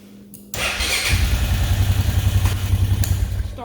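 A Honda 500 ATV engine cranks and catches about half a second in, then settles into a loud, steady, close idle with a rhythmic mechanical clatter.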